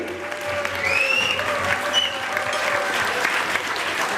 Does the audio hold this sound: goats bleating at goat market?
no